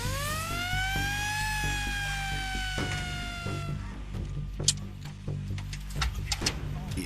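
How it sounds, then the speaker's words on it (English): An ambulance siren wails loudly with rising and sliding tones for about four seconds, then gives way to scattered clicks and knocks over a steady low hum. "The ambulance arrived."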